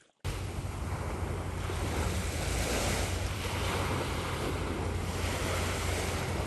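Surf rolls onto a hotel beach in Pattaya, Thailand, a continuous loud wash of waves mixed with wind buffeting the microphone, with no speech.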